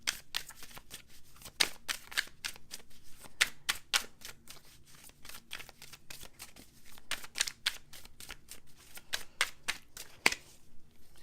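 A deck of tarot cards being shuffled by hand, making soft, rapid papery riffles and clicks in an uneven rhythm, close but faint.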